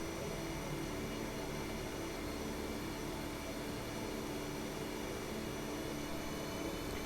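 Constant broadband whooshing roar of an aircraft engine throttling up during a carrier landing approach in the DCS flight simulator game, steady and loud throughout with no pauses.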